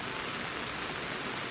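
Steady, even hiss of rain falling, a dense wash of drops with no breaks and no voices.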